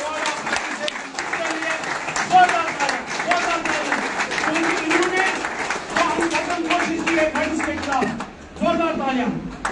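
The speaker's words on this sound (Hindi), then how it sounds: "जोरदार तालियां, जोरदार तालियां।" An audience claps at an award ceremony held by a traders federation in Baramulla, with sustained applause mixed under a loud speaking voice throughout.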